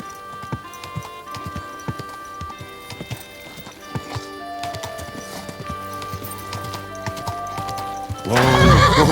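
A horse in the video game Kingdom Come: Deliverance II gallops with rapid, rhythmic hoofbeats over a faint musical backdrop, ending in a loud whinny and snort close by.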